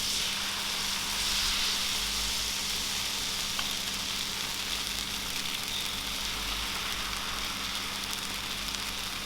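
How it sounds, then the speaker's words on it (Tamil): Rava dosa batter fries on a hot griddle over a high flame, with a constant, even hiss of sizzling close by and no voices. "அடுப்பை நல்லா ஹை ஃப்ளேமில் வச்சுட்டு நீங்கள் தோசை ஊற்றுங்க"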